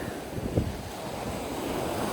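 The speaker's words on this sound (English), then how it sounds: "The waves aren't quite as bad as yesterday." Ocean waves break and wash onto a Florida beach in a steady surf roar, with one brief louder crash early on and wind buffeting the microphone throughout.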